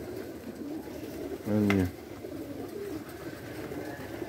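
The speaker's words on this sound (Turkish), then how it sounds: "Şimdi kuşlar bak." A pigeon coos once, a short throaty burst of a few notes that stands out clearly over steady outdoor background noise, with a person speaking briefly nearby.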